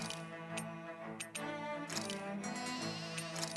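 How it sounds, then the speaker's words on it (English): Sheep bleat on a ranch in the video game Tales of Arise, a few wavering calls over a steady harmonic game music bed, fairly loud and close. "I'll send some sheep."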